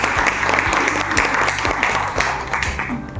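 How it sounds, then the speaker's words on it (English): An audience at a faculty development programme applauds a doctor, with brisk, continuous clapping from many hands throughout, close and fairly loud. "let us all give Dr. Siddharth Seth a very well-deserved round of applause"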